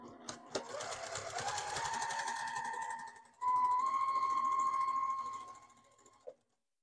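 A sewing machine top stitches a self-binding receiving blanket about a quarter inch from the edge, running fast in two bursts with a brief pause, close and clear, ending in a short stop.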